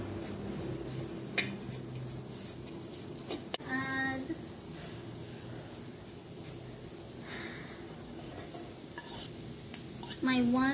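Tofu and vegetables frying in oil over medium heat, a constant sizzle broken by clinks and scrapes of a utensil against the pan, with faint brief voices in the background.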